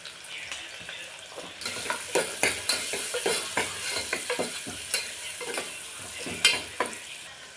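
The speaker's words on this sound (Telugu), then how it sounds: "ఆవాలు వేగాక పచ్చిమిర్చి, ఉల్లిగడ్డ, పసుపు, కొద్దిగా దాల్చిన చెక్క పొడి అండి," Green chillies, onion, turmeric and cinnamon powder frying in hot oil with mustard seeds, a bright sizzle punctuated by repeated scraping stirs of a spatula, close and rhythmic, with no speech.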